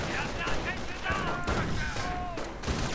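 Anti-tank gun, a copy of the British 6-pounder, firing amid a busy real-time strategy battle, with scattered loud shots and explosions over continuous battlefield noise and faint voices.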